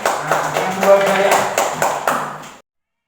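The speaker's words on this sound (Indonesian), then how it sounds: "Tepuk tangan buat kelompok 3 lagi" A classroom of students claps for a group in a short burst of sharp, close taps that stops abruptly after a couple of seconds.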